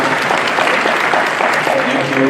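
Loud, sustained applause from a crowd at a public service summit in Nairobi, dense clapping with a busy, indistinct murmur of voices mixed in throughout.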